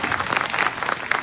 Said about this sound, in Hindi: ऐसा मान के एक बार जोरदार ताली।